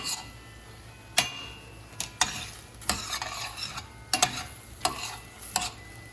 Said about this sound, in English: I'm just gonna stir this around. Get the pesto in there.